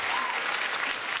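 An audience claps at a live show, a dense, steady wave of applause that fills the whole short stretch at an even loudness.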